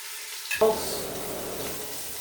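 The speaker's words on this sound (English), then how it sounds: "all you want to do is just get them like seared on the outside" Meat shanks hit a hot pan and erupt into a loud, close sizzle that settles into a steady searing hiss, with a clink of the pan at the start.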